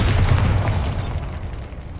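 A Bombarda blasting spell explodes in Hogwarts Legacy, a heavy booming burst strongest at the start, its deep rumble rolling on and slowly fading over two seconds, with no voices.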